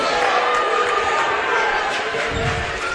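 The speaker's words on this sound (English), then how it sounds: "Crowd not happy." A packed high school gym crowd at a Division 1 basketball playoff semifinal between Goffstown and Nashua North reacts to an offensive foul call, a steady loud roar of disgruntled voices that fills the whole moment.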